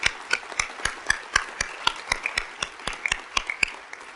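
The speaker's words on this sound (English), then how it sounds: "I think we need a round of applause for CPA and all the people involved with PA Stop" Applause at a prevention alliance conference comes through as a small, sparse round of separate hand claps in an irregular but steady rhythm, close and distinct rather than a full crowd roar.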